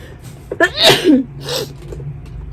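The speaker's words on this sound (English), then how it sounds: "the weather makes me sneeze a lot and sniffle" A single loud sneeze up close, with a sharp intake of breath and a forceful burst, fading into quiet.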